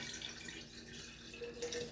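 Water pouring into a quart jar for preserving, a soft continuous splashing trickle heard close and alone.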